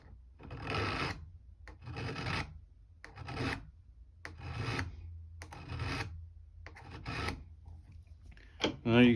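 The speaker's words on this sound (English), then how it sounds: "I'm going to take a little bit more with the file" Hand file rasping over the tip of a gunsmithing screwdriver, about six slow strokes in a steady rhythm with short pauses between them, close and moderately loud, with a brief clunk at the end.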